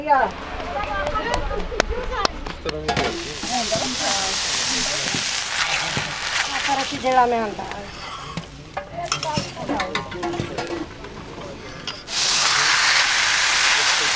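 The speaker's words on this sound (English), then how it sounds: "then they just added in some hot water that kind of whooshed" Loud sizzling and stirring in a hot pan on a fire in rural Punjab, Pakistan, then a sudden steady rushing whoosh near the end as hot water hits the hot surface.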